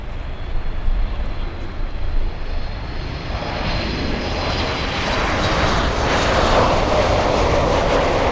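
A Boeing 747 airliner takes off at Miami International Airport, its engines a sustained, loud jet roar that swells and brightens into a broad rushing blast over several seconds.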